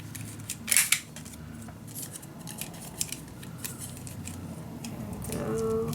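Scissors give one sharp close snip while trimming paper for a handmade mini album, followed by quieter rustling and small handling sounds, with no voices.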